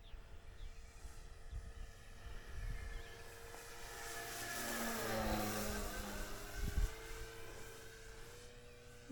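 A Hagar 9 Valiant 69-inch ARF RC airplane flying, its engine drone rising and falling with a Doppler-like sweep as it passes overhead and away, steady and moderately distant with wind noise underneath.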